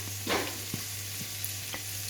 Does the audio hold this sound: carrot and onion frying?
yes